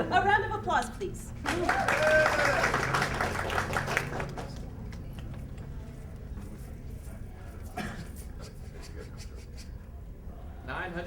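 Crowd applause at a DragonCon alternate history convention panel, a brief loud burst of clapping that fades into lingering scattered claps, with voices talking over it.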